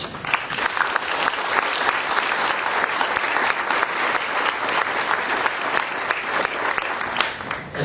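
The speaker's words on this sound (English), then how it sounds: "NOFA board members, would you please rise to get another well-deserved round of applause today?" A ceremony crowd at a Marine headquarters dedication gives NOFA board members a loud, sustained round of applause, thick and even from start to finish with no talking over it.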